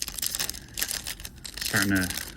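Trading card packs from a blaster box are torn and crinkled open up close, with rustling foil wrapper crackles and a short ripping tear near the end, and a voice speaking alongside.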